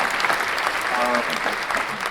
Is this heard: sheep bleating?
no